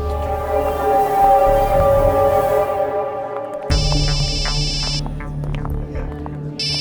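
A mobile phone ringtone cuts in sharply as a bright, repeating electronic tone pattern, replacing a humming musical background and ringing on in steady bursts.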